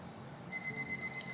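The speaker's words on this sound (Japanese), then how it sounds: "はい、2分のタイマーが鳴りました。" A kitchen timer rings at the end of two minutes of cooking, starting abruptly with a rapid series of high electronic beeps that pulse on and off over faint room noise.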